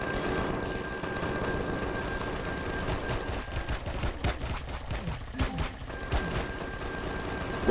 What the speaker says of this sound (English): Watch out, shotgun.